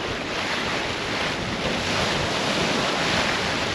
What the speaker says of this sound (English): But just a lot of waves. Just really close together, really choppy.